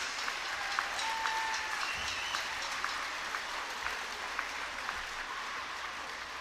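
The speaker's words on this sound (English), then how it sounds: "Let's give a big round of applause to Xavier Harris." Crowd in a high school gym applauding a hall of fame inductee before a boys basketball game, a broad, even wash of distant clapping with a few faint whistles and cheers, steady throughout.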